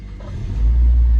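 A Mazda car being jump-started from an EF catches and fires up, a low rumble swelling into a loud, steady idle within a second, close by and alone.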